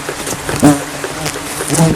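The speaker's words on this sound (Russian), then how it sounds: "За собачкой десятки оводов увиваются." Dozens of horseflies and mosquitoes swarm around a dog at a mountain camp in the Polar Urals, a steady close buzzing hum with brief louder passes near the ear.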